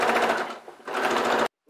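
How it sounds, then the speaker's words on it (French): A sewing machine stitches faux leather (simili) for a multi-purpose pouch, running in a steady rapid whirring rhythm, pausing briefly at a corner, resuming, then stopping abruptly, close and clear. "Je viens juste de commencer ma couture et j'arrive dans le premier angle."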